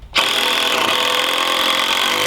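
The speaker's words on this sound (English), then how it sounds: "So I'll put 4 good screws in here to hold it in place." A power drill drives screws into the timber roof structure of a woodshed in Alaska, a loud steady whine that starts abruptly and runs continuously, close by, with no talk.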